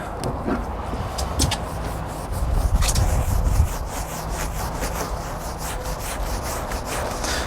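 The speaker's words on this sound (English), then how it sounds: "do some scrubbing on it, see if we can get this thing looking like new" Steady scrubbing of a stained car surface by hand, a continuous rubbing texture with a few short scraping strokes, close and moderately loud, with no talking.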